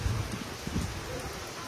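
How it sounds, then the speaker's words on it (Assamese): Rain pours during a bicycle ride from Dibrugarh to Namsai, a dense steady hiss with low rumbling bursts that could be wind or distant thunder. "বৰষুণ দিয়ে আছে, বৰষুণ এৰা নামেই নলৈছে।"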